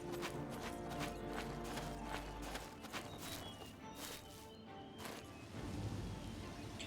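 Horse hooves clip-clopping in The Elder Scrolls IV: Oblivion, a faint, steady run of hoof beats mixed with other game sounds, with someone talking over it.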